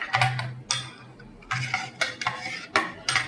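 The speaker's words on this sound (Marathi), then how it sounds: "आणि आपण कढी अशी घुसळून घ्यावी, ताक घुसळून घ्यावं, म्हणजे एकसारखं तयार होतं." Buttermilk for kadhi being churned and whisked in a metal pot, giving bursts of scraping, clinking strokes in an uneven rhythm with short pauses between, close and fairly loud.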